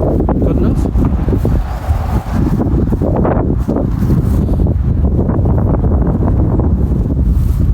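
Strong storm wind buffets a Naturehike Cloud Up 2 backpacking tent during Storm Arwen, a steady loud roar with gusty flapping and rustling of fabric throughout, and someone speaks over it.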